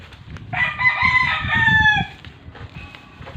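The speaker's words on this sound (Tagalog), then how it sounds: "Daghan gyud mga manok guys" A rooster crows loudly nearby, one long drawn-out call, while hens cluck softly and steadily in the background among many chickens.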